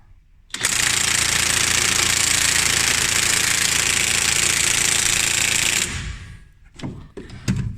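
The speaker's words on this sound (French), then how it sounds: "On voit que vitesse 2 ça suffit pas. On va augmenter à vitesse 3." A cordless impact wrench hammers loudly and continuously on Torx E20 brake bolts of a 2002 Opel Corsa C for about five seconds, then cuts off, leaving faint clanks and handling noises.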